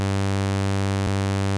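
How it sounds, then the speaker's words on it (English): A Serum synth bass holds one long, steady MIDI note in G for a psytrance bassline, a loud, rich sustained drone with a single brief click partway through. "right now it's just a long MIDI note in G"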